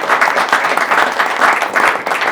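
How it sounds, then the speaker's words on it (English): Dense, steady applause from a roundtable audience cheering an industry and workforce panel, many hands clapping loudly and continuously with no talk over it. "Can we have a round of applause for our panel?"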